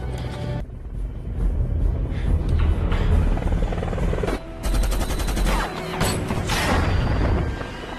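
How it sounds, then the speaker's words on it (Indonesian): A helicopter's rotor drone runs throughout a film scene while bursts of gunfire and impacts cut in, building to loud crashing hits in the second half. "berhasil menembak jatuh pesawat heli itu"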